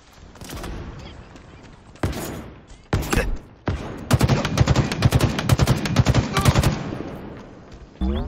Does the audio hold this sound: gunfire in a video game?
yes